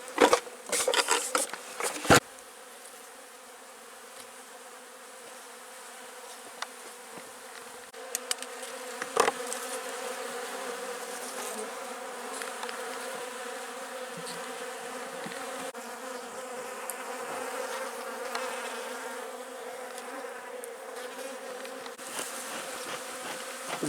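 Honey bees buzz steadily in a beehive infested with wax moths, a dense close hum that holds for the whole stretch, with a few sharp knocks near the start.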